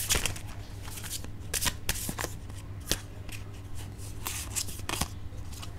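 A tarot deck is shuffled and cards are drawn, giving quick papery riffles and sharp flicks in irregular bursts over a low steady background hum, close and fairly clear, with no talking.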